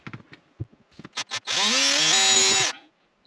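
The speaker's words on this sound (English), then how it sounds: "now that we have our holes drilled" A power drill with a 1/4 inch bit bores holes, preceded by a few short clicks and taps, then one loud, close, steady whirring burst of about a second that changes pitch partway through before cutting off.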